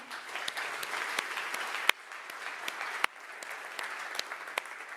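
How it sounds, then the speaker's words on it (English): A conference plenary audience applauds three finalists, a continuous crowd clapping at moderate distance with a few louder individual claps standing out, steady to the end. "So let's give a round of applause for all 3."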